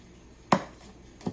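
Garlic cloves chopped with a knife on a board during home cooking, two separate knife strikes about three-quarters of a second apart, close and fairly quiet, with no talk.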